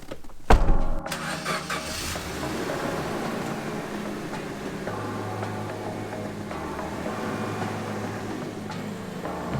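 A Suzuki Jimny 4x4 engine cranks and catches with a sharp burst, then settles into a steady running drone as the vehicle pulls away, close and fairly loud with no talking.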